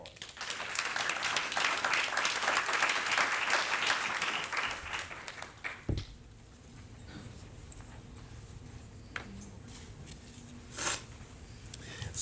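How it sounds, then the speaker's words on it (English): Audience applause at a reunion panel event, a dense sustained clapping that swells for about five seconds, then cuts off sharply, leaving quiet room tone with a few scattered sounds. "Please give them a round of applause."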